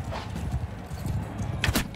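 Horse hooves clop in quick, uneven beats during a battle in the video game Mount & Blade II: Bannerlord, set against a thick bed of game noise.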